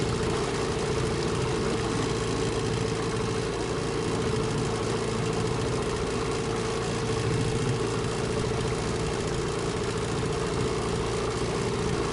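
A Mikatsu 9.8 outboard boat motor runs steadily and evenly throughout, a continuous low droning hum with a constant buzzing tone and no pauses.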